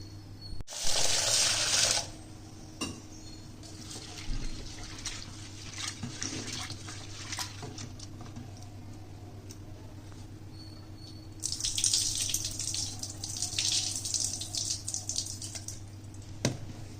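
Lentils are rinsed under tap water in a sink. The tap gushes in two bursts, one short and an opening one longer near the end, with quiet drips and clinks in between, close by.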